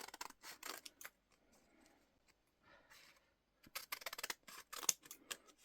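Scissors snipping through scrapbook paper from a kit, close and crisp, in two bursts of quick rhythmic cuts separated by a short pause with faint rustling.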